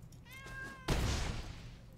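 A cat meows in a drawn-out call, close and clear, then a loud thump or rustle follows partway through, with a steady background hum underneath.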